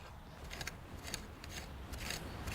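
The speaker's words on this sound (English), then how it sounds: "you need to start by loosening up the soil. Just use a rake." A rake scrapes through garden soil to loosen it for patching an old lawn, a faint series of short, gritty scratching strokes close by with no talk.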